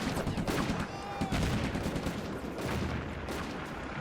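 Gunfire in Combat Mission: Afrika Korps, a dense crackle of rapid shots and bursts at moderate distance running continuously, with faint voices mixed in.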